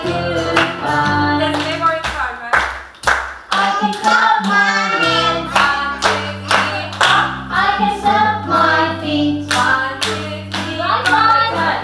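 Sharp hand claps land on the beat of a sung melody with a sustained musical backing, evenly spaced and close, the singing voice running continuously over them.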